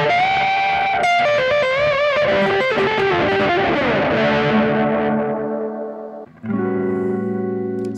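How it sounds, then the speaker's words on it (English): Squier Classic Vibe '50s Strat electric guitar on the bridge pickup with the tone knob rolled back, playing a smooth, violin-like distorted melodic line with sustained, bending notes, then a final chord ringing out, loud and alone. "you can get that kind of violin-esque tone by rolling back your tone here on the back pickup"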